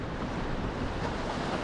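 Sea surf along the shore, a steady broadband wash with wind buffeting the microphone, moderately loud and continuous over a short stretch, no voices.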